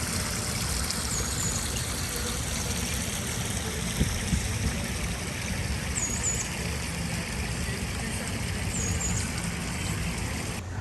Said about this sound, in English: we have this peaceful pond with running water.